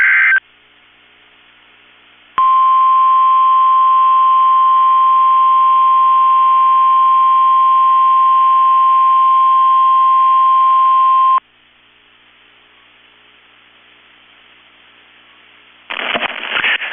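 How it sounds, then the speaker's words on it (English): A steady NOAA weather radio warning alarm tone from the National Weather Service in Chanhassen, Minnesota, sounding as one loud, unbroken pitch for about nine seconds, with quiet static and a brief burst of noise before and after. "The National Weather Service in Chanhassen, Minnesota has just activated the warning alarm on 13 weather radio stations"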